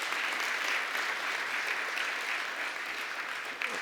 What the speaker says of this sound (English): if I could just ask for a round of applause